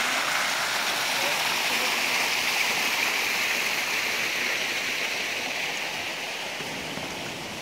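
Steady rush of flowing water from a channel at the Alhambra in Granada, Spain, fed from the Sierra Nevada mountains; a close, continuous broadband wash that holds level throughout with no pauses.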